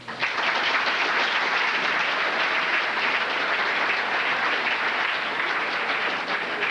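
Sustained audience applause fills the room at a 1992 Pee Wee AA hockey tournament awards ceremony, a thick, even wash of many hands clapping throughout.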